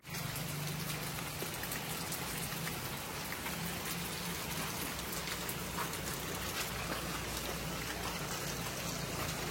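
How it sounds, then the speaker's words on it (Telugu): Steady rain pours during a night walk outdoors, a dense, even wash of drops pattering on surfaces nearby, constant and unbroken throughout with no voices. "మనకైతే వాన పడుతుంది అనమాట."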